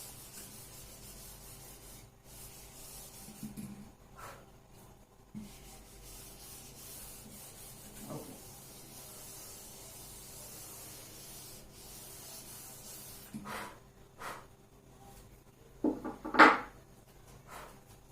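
Eraser rubbing across a classroom board during a maths lesson on multiples, heard as quiet, scattered scrubbing strokes in a hushed room, with a few louder rubs near the end.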